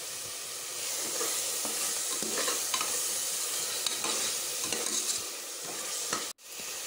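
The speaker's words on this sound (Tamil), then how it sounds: "இப்போது நல்லா மிக்ஸ் பண்ணிக்கலாம். நல்லா எண்ணெய் பிரிஞ்சு வரட்டும்." Mutton biryani masala being stirred and fried in oil in a pan, steady close sizzle with scraping stirring strokes throughout, ending in a brief cut.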